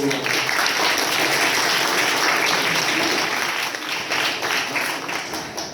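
At a school presidential forum, the audience breaks into loud, dense applause that holds steady for several seconds before easing slightly at the close, with a voice faintly present.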